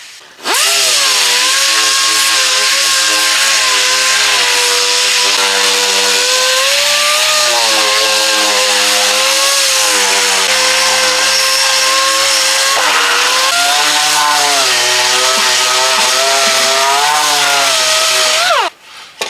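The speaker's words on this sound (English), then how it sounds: "I take a short throw DA sander. If you don't have one of these, you can use an electric sander or whatever you got. And then I go ahead and I sand that down." Short-throw dual-action sander stripping paint from a guitar body, a loud continuous whining motor drone that shifts in pitch under changing pressure for nearly twenty seconds, then stops; no voices.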